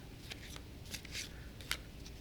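Illimat game cards being shuffled by hand, a few soft, quick riffling bursts close up over a faint hiss, with no voices.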